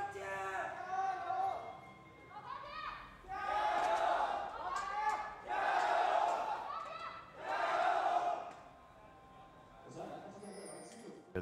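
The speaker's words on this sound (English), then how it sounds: "The crowds cheering" An esports arena crowd at a League of Legends LPL match, LGD versus OMG, cheers and roars in repeated swelling waves, loud and sustained, with brief lulls between bursts.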